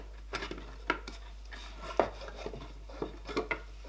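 A metal part is screwed into a small wooden barrel shot glass holder while a nut is held inside it, producing a series of close, quiet clicks, scrapes and knocks at irregular intervals over low hum.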